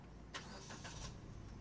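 A manual-transmission car is started, a short cranking burst followed by the engine catching and settling into a quiet, steady idle, heard faintly from inside the car.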